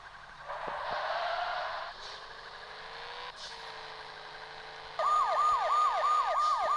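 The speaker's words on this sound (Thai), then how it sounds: "มีทางให้รถพยาบาลด้วยครับผมมีทางให้ด้วยผมกำลังรีบ" An ambulance siren from a driving video game wails and switches patterns, steady tones then a rapid yelp, loud and continuous with no talking over it.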